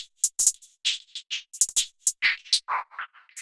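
Hi-hat hits in a quick rhythmic pattern, chopped and pulsing by a tremolo effect as the level swells and cuts, bright and dry with nothing else playing.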